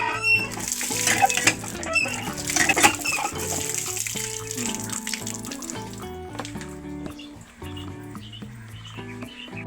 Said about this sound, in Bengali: আমরা এই বোতলের মধ্যে আমরা ফ্রেশ পানিগুলো ভরাবো